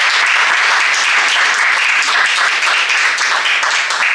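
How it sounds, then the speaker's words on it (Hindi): Audience applause at an event honouring an MPPSC topper, steady and dense across the whole stretch, loud and close with no voices over it. "तालियां"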